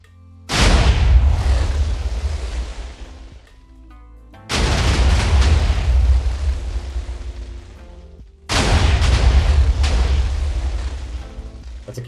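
Three loud booming blasts about four seconds apart from a video game TNT cannon on a 4-second automatic cycle, each with a heavy low rumble that slowly decays.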